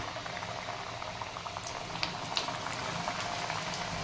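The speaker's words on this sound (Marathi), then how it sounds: "आता आपण तयार केलेली कचोरी एक एक असं तळून घेणार आहोत." Spinach and pea kachori deep-frying in a pan of oil over low heat, giving a soft continuous bubbling sizzle with a few faint crackles and pops, quiet and close.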